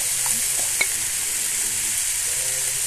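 Kashmiri and hot chili powder fry in coconut oil, giving a continuous, even sizzling hiss with faint stirring scrapes and no voices.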